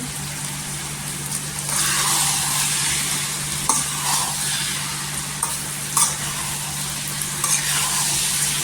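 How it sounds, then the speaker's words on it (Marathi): Rice and matki sprouts stirred together in a kadhai, giving a steady scraping, sizzling texture with a few louder spoon knocks against the pan. "इथे बघा तांदूळ घेतलेले आहेत 1 वाटी आणि 1 वाटी मटकी घेतलेली आहे. पूर्णपणे मिक्स करायची."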